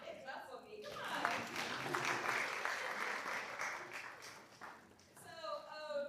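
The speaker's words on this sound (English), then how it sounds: "Y'all can clap for me" An audience claps in a broad, sustained wash of applause for a speaker who earned a high school diploma, fairly faint and steady for several seconds, with a voice talking before and after.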